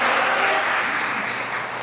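A church congregation applauds during a Spanish-language sermon, a dense and steady wash of clapping that fills the room and fades slightly toward the end.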